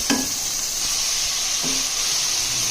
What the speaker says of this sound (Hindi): अब हम इसमें कीमा ऐड कर देंगे। कीमा ऐड करने के बाद हम इसे स्टिर करेंगे।